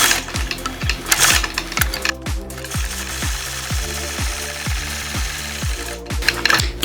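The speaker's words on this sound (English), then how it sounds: "So let's stitch out that first line." A sewing machine stitches a quilting line along a ruler on a plaid-motif block, a steady rapid run of mechanical thumps, close and clear with no talk.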